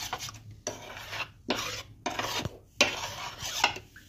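A spoon scrapes and stirs the batter coating for prawn cutlets, making four or five rhythmic rasping strokes close up, each stroke separated by a brief pause, with no talking.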